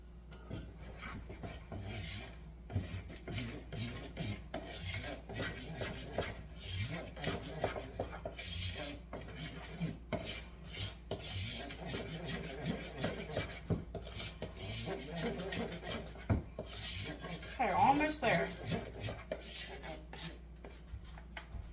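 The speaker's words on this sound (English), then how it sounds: "I'm just going to stir that in" Banana bread batter being stirred in a bowl, a steady rasping scrape of utensil against the bowl repeating at an even pace, quiet and close, with no talking.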